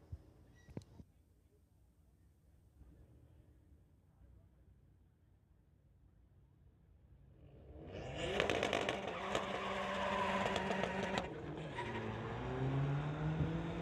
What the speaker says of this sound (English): Lots of wheel spin, not a lot of hookup.